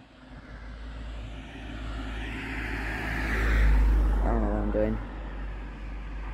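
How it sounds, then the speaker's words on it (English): Passing road traffic on a street beside a sidewalk, a steady engine and tire rumble that swells as a vehicle draws near around the middle, with a brief voice over it. "come on. There's more cars."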